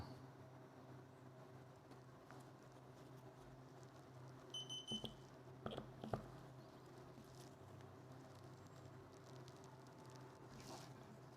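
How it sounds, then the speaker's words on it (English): Several short, high electronic beeps from a torque screwdriver reaching tightness while mounting a red dot optic on a Canik TP9sfx pistol, in quick succession against a quiet background hum, followed by a few light clicks. "once it's tight enough, it'll beep"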